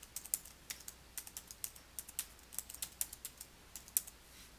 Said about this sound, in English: type their email address